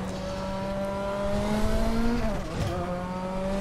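Nissan Silvia Turbo race car engine at Suzuka in RaceRoom Racing Experience, a steady tonal drone that rises slightly, then dips with a brief throttle lift and recovers, close and alone without talk.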